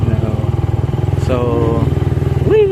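A motorcycle with a broken exhaust runs loud and close, its rough, pulsing engine beat steady throughout, with a brief rising rev near the end and a voice speaking over it.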